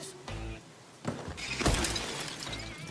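A car windshield shatters with a loud crash, glass shooting far through the air, followed by scattered tinkling and crunching fragments over several seconds with some background noise.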